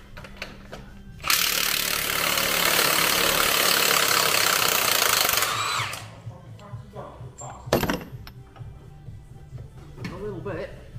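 A Milwaukee impact wrench hammers hard for about four seconds to free the crank bolt on a 2010 Ford Mondeo 2.0 TDCi, loud and close, followed by a sharp metallic clank and quieter workshop handling noises.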